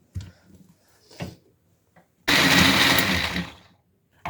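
A blender whirs for about a second and a half as it mixes an ice cream milkshake mixture, loud and close, after a few soft knocks and clinks of preparation.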